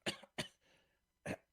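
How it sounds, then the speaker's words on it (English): Three harsh, close coughs from one person, two in quick succession, then a short breathy pause before a final cough, loud against a quiet background. "I know I got a pretty bad cough in here"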